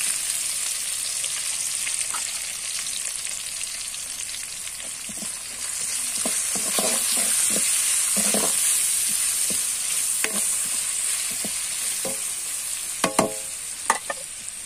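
Onions fry with whole spices in a pot, sizzling steadily while a spoon scrapes and clatters against the pot in irregular strokes, close and clear with no talking.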